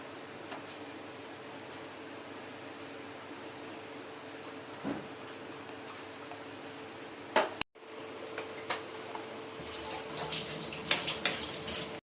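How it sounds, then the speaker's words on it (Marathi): Tamarind water poured into a simmering vegetable curry: a long quiet stretch with a faint hum and a single click, then a soft splashing pour over the last couple of seconds. "थोडस चिंचेचं पाणी टाकूया"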